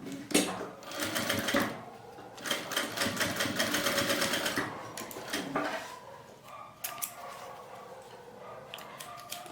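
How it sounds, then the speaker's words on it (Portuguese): A sewing machine stitches a fabric pencil case in a fast, steady whirring run that slows and stops, followed by quieter handling of fabric and small clicks. "Agora eu vou costurar desse outro."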